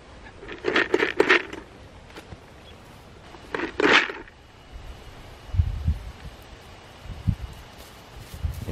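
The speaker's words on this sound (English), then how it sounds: "They hear that bucket." A feed bucket rattles and clatters in two short bursts outdoors as Katahdin sheep come toward it, followed by soft low thuds and scuffs from the approaching animals.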